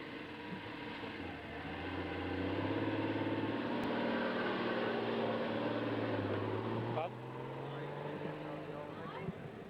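Standard Saloon race cars at Redline Raceway in 1993 drone with a sustained, layered engine roar whose pitch rises and falls as they pass, with a brief shift near the end.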